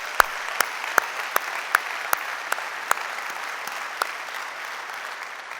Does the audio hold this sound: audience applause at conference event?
yes